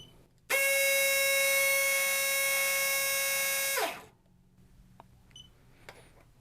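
A SOLINK programmable brushless airsoft motor spins up near 32,895 RPM, a loud steady high-pitched whine with strong harmonics that holds for about three seconds, then winds down quickly into quiet room tone.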